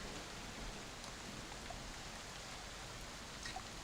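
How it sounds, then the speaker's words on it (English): A steady, even hiss of rain falls outside, unbroken and moderately quiet, with no other distinct sounds standing out. "So the rain has continued outside."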